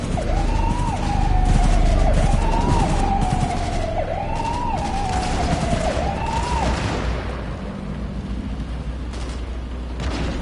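Gunfire in the video game Cyberpunk 2077 with a wailing police siren, rattling bursts of shots under the rising and falling siren, fading toward the end.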